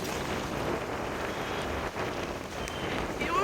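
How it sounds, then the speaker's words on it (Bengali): Rain falls steadily during a ride, a dense, even hiss of drops with wind buffeting the microphone throughout. "আর হচ্ছে বৃষ্টি"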